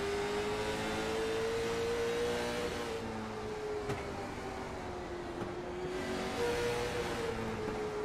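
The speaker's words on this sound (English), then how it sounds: "burp that throttle just a little bit as he's coming out of the corner" Race car engine in a short-track late model racing video game, a steady loud drone with a tone that rises and dips as the throttle is blipped out of a corner, continuous with no talk.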